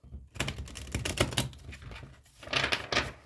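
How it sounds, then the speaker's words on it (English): Tarot cards shuffled by hand close up, producing quick bursts of papery riffling and slapping that swell and fade in irregular clusters. "Just a little bit of shuffling."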